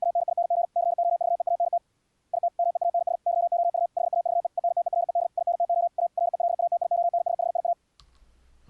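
Unfiltered high-speed Morse code (QRQ CW) tone, a single steady pitch keyed in rapid dots and dashes with short pauses, clear and close, ending abruptly with a brief click.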